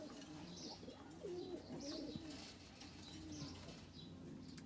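Kaldam pigeon on an Indian Kaldam pigeon farm cooing in soft, repeated low-pitched phrases, close by, with faint chirps in the background over a constant low hum.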